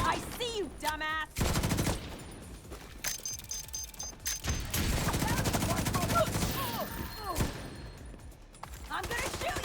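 Bursts of rapid automatic gunfire rattle in a first-person shooter video game, broken by short gaps and scattered single shots, with some game effects mixed in.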